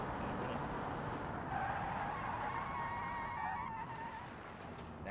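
A small Ibishu Prodigy car with a CVT brakes hard in BeamNG.drive, with tire skid squeal rising over a steady engine and road rumble, fading slightly as the car slows.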